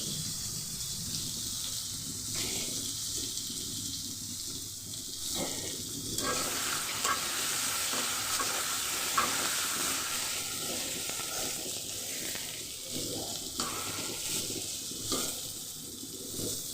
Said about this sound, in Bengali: কড়াইয়ের মধ্যে তো বেগুন ভাজার জন্য বেগুন দিয়ে দিছি